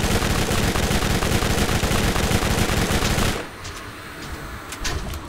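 Dense, loud automatic gunfire from a Borderlands shooter game, a rapid continuous burst that cuts off abruptly, followed by quieter scattered game sounds.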